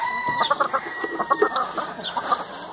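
Hens cluck in a farmyard, with a run of short, uneven, overlapping clucks and calls close by, plus a thin steady tone running underneath.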